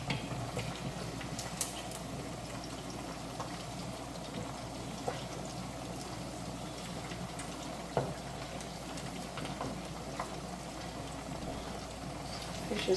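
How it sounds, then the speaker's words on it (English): Fish fries in a pan on a stovetop, giving a steady, dense sizzle and crackle that holds evenly throughout with occasional small pops. "Fish is frying beautifully well."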